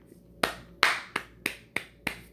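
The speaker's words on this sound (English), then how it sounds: "There, I clapped my hands." Hands clap six times at close range, sharp dry smacks spaced unevenly over about two seconds, alone against a quiet room.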